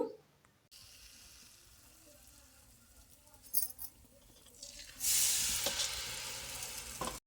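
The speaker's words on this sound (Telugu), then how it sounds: "పిండిలో ముంచి తర్వాత మనం నూనెలో పెట్టేసిన తర్వాత" Batter-dipped rose cookies (gulabi puvvulu) frying in hot oil, heard as a soft sizzle that swells sharply into a loud, steady hissing crackle partway through, with faint scraping and brief clinks from a ladle.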